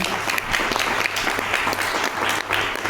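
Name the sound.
applause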